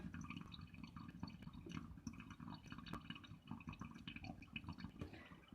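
Soft trickling and dripping water leaking steadily past a poorly sealing kitchen sink plug into the drain, faint and close, with no voices.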